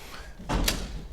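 A lecture room door opening and closing as latecomers enter, one muffled thud with a brief rattle at mid-distance, standing alone against a quiet room.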